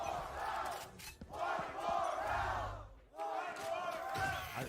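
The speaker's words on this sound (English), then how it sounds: "I think that's the first time I've ever heard the crowd rooting against Sentinels." A Valorant esports arena crowd roars and chants in the Sentinels versus FURIA match, loud swelling waves of voices that dip briefly twice and surge back, with a commentator talking over them.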